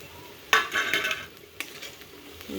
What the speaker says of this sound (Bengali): আমি আদা রসুন পেস্ট দিয়ে দেব